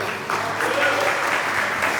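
A church congregation at an evening communion service applauds, a soft, continuous wash of clapping heard at a distance and fairly low in level, with a faint hum beneath.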